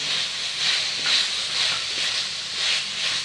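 Drumsticks sizzle in a hot pan with ginger garlic paste, a steady close hiss that swells and eases in gentle waves.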